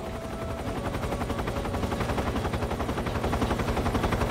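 Helicopter and rapid machine gun fire in Metal Gear Solid 3, a dense, continuous rattle of shots over a throbbing rotor drone, loud and unbroken throughout.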